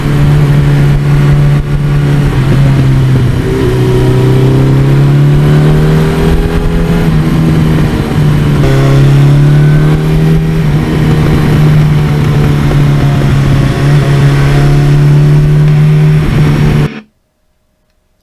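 A 39-year-old 1982 Suzuki GS1100E superbike engine runs loud and close, its throaty note repeatedly swelling and dipping with blips of the throttle, then cutting off abruptly just before the end.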